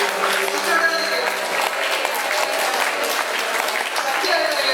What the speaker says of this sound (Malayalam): ശക്തിയോടെ കൈയടിച്ച്